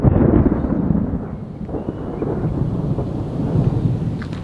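Thunder rolls over a lake in France during a summer storm night, deep rumbling peals swelling and fading across several seconds with a faint wash of rain beneath, no voices.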